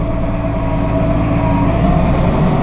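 Massey Ferguson 7724 DynaVT high-horsepower tractor engine running at half throttle, a loud steady diesel drone heard close up and alone, without talk.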